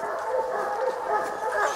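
Hunting dogs bark and yip on a coon hunt beside a river, a dense run of excited baying and whining, fairly close and continuous, with people talking underneath.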